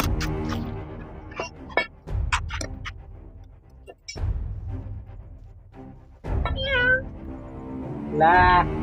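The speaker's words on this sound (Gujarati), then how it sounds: "બિલાડી છે" A cat meows twice near the end, loud and close, after a stretch of muffled voices and clattering noise.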